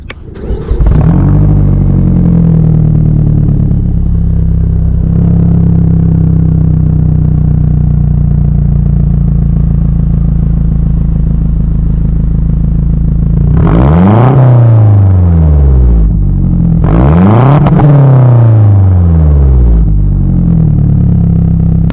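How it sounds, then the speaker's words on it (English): A modified 2009 Mazdaspeed 3 idles with a steady low exhaust rumble, then revs sharply twice, each throttle blip rising and falling loudly close by. "I'll give you a little exhaust note on how it sounds"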